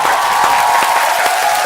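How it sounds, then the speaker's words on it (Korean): A church audience applauds to welcome three women guests on stage, a short burst of dense, steady clapping from many hands in a large room. "우리 박수로 환영하겠습니다"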